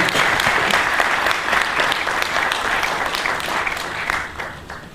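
An audience at a Christian literature fair in Kinshasa applauds in a sustained burst of dense clapping that gradually thins toward the end.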